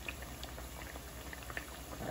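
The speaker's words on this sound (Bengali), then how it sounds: "এই দেখেন আমার পিঠা ভাজা হইতেছে" Mung dal pitha frying in oil, a continuous bubbling sizzle close by with small crackles throughout, steady and without talk.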